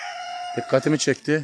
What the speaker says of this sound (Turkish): Horoz sesleri geliyordu.